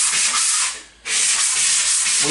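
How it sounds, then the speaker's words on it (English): Sanding pad rubbing over drywall joint compound: a steady, loud abrasive hiss that breaks off briefly in the middle, then resumes with the same continuous scraping texture. "Alright, now that we're sanding,"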